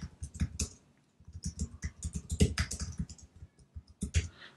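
Fingers typing a tag name on a computer keyboard, a close run of quick, uneven key clicks in bursts with brief pauses, no talking.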